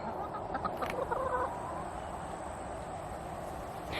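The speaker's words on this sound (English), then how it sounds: "we have got our rooster right over here, and he is a leghorn rooster" Brief clucking from chickens and a short call from a Leghorn rooster near the start, then a steady low farmyard hum with no talking.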